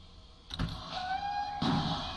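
A train in the video game Transport Fever 2 sounds a steady, clear whistle tone between two soft mechanical thumps, set against a low background hum.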